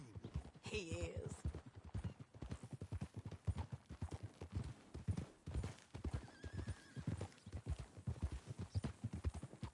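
Horse hooves clip-clopping in Red Dead Redemption 2, a steady rhythmic trot close by with a neigh early on, faint and continuous throughout.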